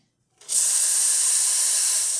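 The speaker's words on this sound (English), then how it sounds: "really strong steam." A La Marzocco Linea Mini espresso machine's steam wand bursts in with a loud, steady hiss after a moment of silence and keeps blasting at full strength with no pause.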